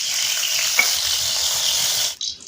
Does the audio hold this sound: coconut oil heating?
yes